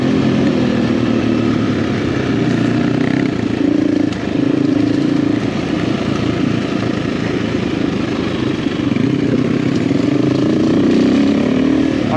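A lightweight motorcycle engine drones steadily while riding on the road in Portugal, with a constant loud hum and wind noise and no talking.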